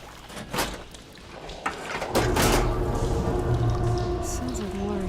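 Water rushing through machinery after a valve is switched in the video game Horizon Forbidden West, a couple of mechanical clunks followed by a sustained, steady gushing flow, with some voice over it.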